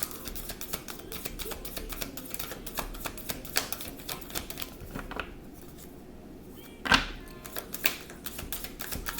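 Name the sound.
tarot cards being shuffled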